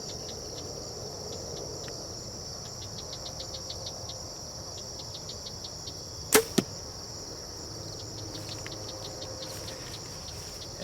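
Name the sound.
broadhead arrow shot from bow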